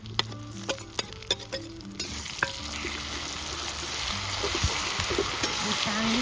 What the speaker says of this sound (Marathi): आता आपण ही जी पेस्ट केलेली आहे पाट्यावर ती याच्यात टाकून घेऊ.